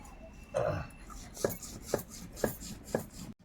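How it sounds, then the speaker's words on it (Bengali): Green chillies are pounded on a grinding stone in a kitchen, a heavy thud followed by evenly spaced knocks about every half second, close and moderately loud against a faint background. "ওইদিকে বাটাবাটি চলছে"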